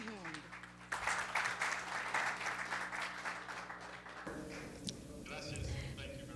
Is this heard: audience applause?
yes